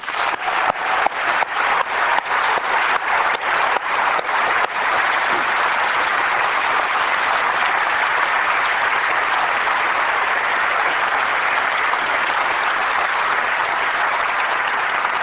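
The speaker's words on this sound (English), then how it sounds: "I also would like to give a round of applause to everybody at Apple who's been working on these 4 products." An audience at an Apple product event breaks into sustained applause, opening with a few distinct sharp claps before merging into a dense, steady roar of clapping that continues evenly to the end.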